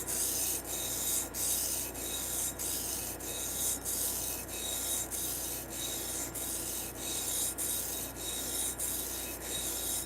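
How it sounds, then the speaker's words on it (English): Knife edge rasping across a coarse whetstone in a steady rhythm of repeated strokes, each pass a gritty scrape with brief pauses between, close and fairly loud with no talking. "Edge will be created on the first stone."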